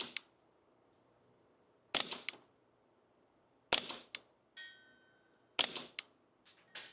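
Suppressed .22LR shots from a TandemKross pistol build: several sharp, close cracks spaced a second or two apart, each followed by a short metallic clatter, in an otherwise quiet setting with no talk.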